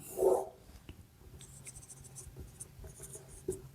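Marker or chalk writing on a classroom board during a science lesson on the laws of reflection, with soft scratchy strokes in short bursts and a louder thump near the start.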